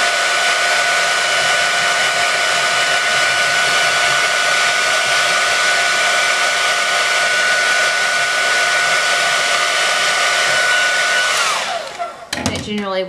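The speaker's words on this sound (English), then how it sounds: "I had come across this tip of using a hairdryer just to heat the product up" A hair dryer blows loudly and steadily, a constant whooshing whine close by, then winds down and clicks off near the end.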